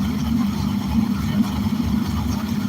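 A car engine on a dyno during a pull with an automatic transmission, heard as a steady, loud, droning low rumble that holds throughout without clear revving.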